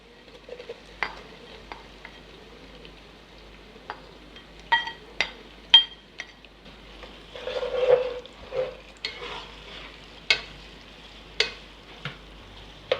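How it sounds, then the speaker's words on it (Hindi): Onions with ginger cooking in a pan for vegetable biryani, a soft continuous sizzle broken by repeated scraping stirs and occasional light clinks of a spoon against the pan. "प्याज को हम तब तक पकाएंगे जब तक ये लाइट पिंक नहीं हो जाता है"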